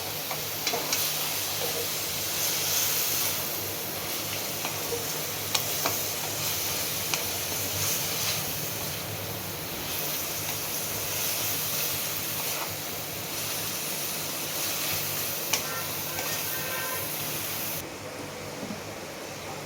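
Banana flower curry (mochar ghonto) being stirred in a pan, a steady broad hiss of sizzling with faint scraping, continuous and even for about twenty seconds before quieting slightly near the end.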